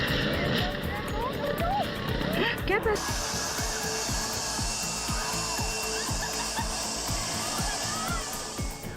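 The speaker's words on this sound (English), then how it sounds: "A peaceful beach day turns into pure chaos as a massive jet powers up, sandblasting everywhere" A massive jet powering up on a beach, its engines roaring into a loud, steady broadband blast that sandblasts everything, with a sudden surge in the rush partway through and chaotic clatter beneath.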